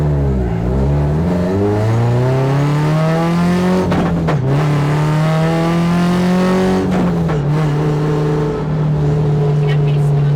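A car with a sequential transmission accelerates hard from inside the cabin, its engine droning loud and steady, climbing in pitch, dropping sharply at quick shifts, then climbing again.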